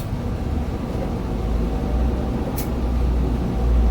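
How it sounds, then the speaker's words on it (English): A low, steady rumble from Boston Whaler boat engines with a gradually rising level as they accelerate, steady and continuous with no voices. "I don't know if you heard the engines accelerate a little bit"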